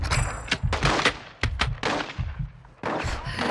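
Suppressing gunfire in Call of Duty Modern Warfare 2 (2022) campaign: loud, close bursts of rapid rifle fire come in several rattling volleys with brief gaps, dense and punchy.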